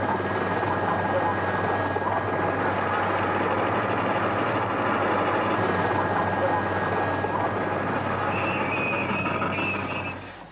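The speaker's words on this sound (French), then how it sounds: "une évacuation sanitaire par hélicoptère" Steady, loud rotor thrum of a medical evacuation helicopter at the Dakar rally fills the whole stretch, continuous and close, fading slightly at the very end.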